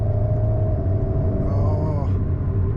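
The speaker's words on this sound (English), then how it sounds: "it's making some nice engine noise, sort of pops, because obviously the engine is in the back here" A 2023 Alpine A110S's rear-mounted engine drones loudly inside the cabin, a steady low rumble with a rising tone near the middle as it revs, while a voice talks over it.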